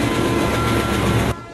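A moving train rumbles loudly and steadily on its rails with a clickety rattle, then the noise drops off abruptly near the end, in a Telugu comedy film scene set on a train.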